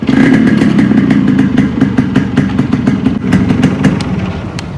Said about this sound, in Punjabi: ਮੋਟਰਸਾਈਕਲ ਦੀ ਸਟਾਰਟਿੰਗ ਦੇਖਿਓ ਬਹੁਤ ਘੈਂਟ ਸਟਾਰਟਿੰਗ ਆ ਤੇ ਆਵਾਜ਼ ਬਹੁਤ ਵਧੀਆ ਇਹਦੀ